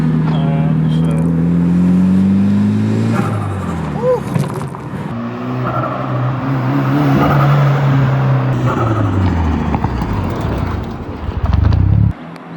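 Mitsubishi Evo 7 rally car with an exhaust modification revving hard, rising and falling engine pitch over several seconds with pops and a final sharp burst, loud and close.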